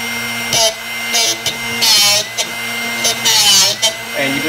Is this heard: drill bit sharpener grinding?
yes